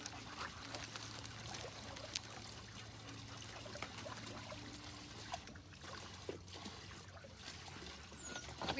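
Water flowing from a turtle pond pump filter being backwashed, a steady trickling and pouring stream with a low constant hum underneath, continuous and fairly close throughout.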